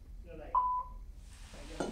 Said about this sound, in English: we get a beep. That tells us that the putt has been captured.